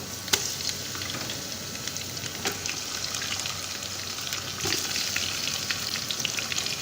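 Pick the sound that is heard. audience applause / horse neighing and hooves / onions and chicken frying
onions and chicken frying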